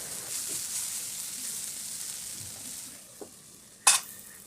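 Okra sizzles gently in a pan, a soft steady frying hiss that thins toward the end, with a couple of sharp scraping stir strokes near the finish.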